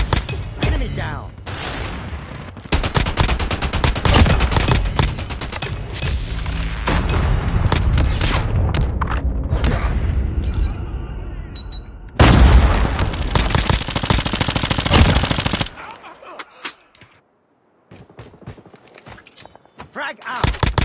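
A sentry gun firing in Call of Duty: loud, dense rapid bursts of automatic fire. Heavy shooting runs for long stretches, then there is a brief pause and scattered quieter shots follow.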